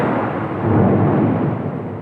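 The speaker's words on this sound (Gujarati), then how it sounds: "માથે આ વીજળીના કડાકા થાય છે" A deep, rumbling roll of thunder swells and fades over two seconds, broad and heavy with no voices present.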